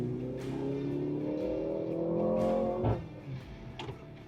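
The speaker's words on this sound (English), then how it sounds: "That engine sounds ridiculous though." A 2024 Mercedes GLC43 AMG's four-cylinder engine pulls hard under acceleration, a steady rising drone that builds for a few seconds before easing off, with faint tire noise alongside.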